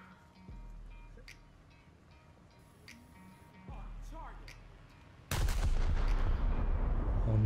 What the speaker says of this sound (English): I didn't use single shots now, just to show you how devastating the salvo will be.